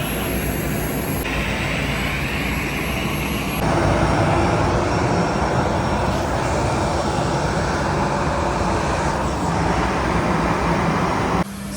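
Airplane engine heard from inside the cabin on a flight to Sharm El Sheikh: a loud, steady broadband roar that fills the whole stretch, swelling slightly partway through, with no talk.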